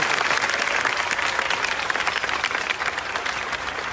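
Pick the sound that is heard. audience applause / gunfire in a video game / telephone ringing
audience applause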